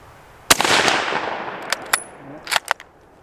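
A single loud gunshot from a 30-40 Krag Model 1896 rifle cracks close by and rings off, followed by a few short metallic clicks and knocks from the action.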